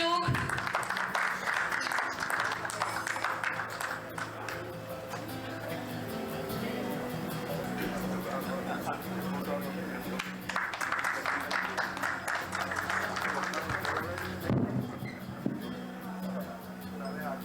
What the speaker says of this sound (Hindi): थोड़ी ताली बजाते रहे आप सभी लोग